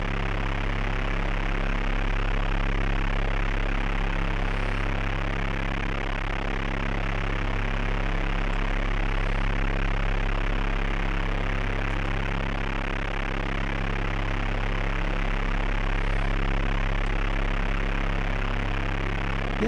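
A steady, droning aircraft engine hum from the Atari ST game Flight Simulator II, with a low constant tone and even loudness throughout, sounding synthetic, with no talking.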